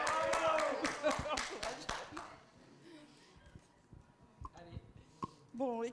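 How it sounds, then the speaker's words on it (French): An audience at a workshop gathering applauds with a short burst of brisk, fairly close hand claps that fades after about two seconds, leaving scattered taps and murmured voices. "Un applaudissement."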